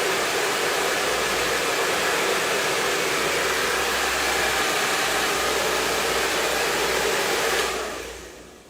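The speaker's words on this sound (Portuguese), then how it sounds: "Quando eu uso o secador, só vai aparecer um barulhinho para nós" A hair dryer blows with a loud, steady rushing hiss for several seconds, then switches off and winds down.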